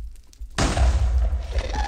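Minecraft ghast fireball explosion in the game, a sudden loud blast after a quiet start, then a rumbling, crackling tail that fades slowly.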